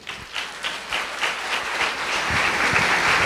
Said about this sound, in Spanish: démosle un más fuerte aplauso